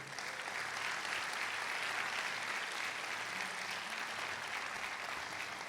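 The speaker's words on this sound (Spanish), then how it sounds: "Gracias, dar un aplauso al Señor." A church congregation applauds during a sermon, a thick, continuous wash of clapping from many people, even and sustained, somewhat distant in a large room with no speech over it.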